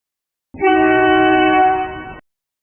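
A single sustained bus horn blast, loud and close, holding steady for about a second and a half before cutting off abruptly; no voices.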